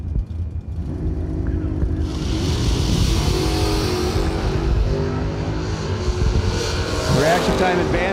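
A 1986 Malibu drag car launches down the strip, a loud, close engine roar building and holding steady, with rising revs toward the end as it pulls away.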